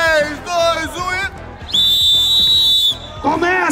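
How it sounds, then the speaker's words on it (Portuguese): A referee blows a long, shrill whistle to start an amateur football championship match, sounding for over a second between bursts of excited talk and crowd noise. "Vamos embora, que eu quero apitar."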